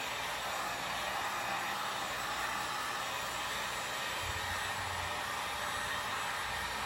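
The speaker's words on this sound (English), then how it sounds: "see what the heat gun does." A heat gun blows steadily across a paint-pour flip-cup canvas, a constant airy roar like a hair dryer that holds an even level throughout with no voices.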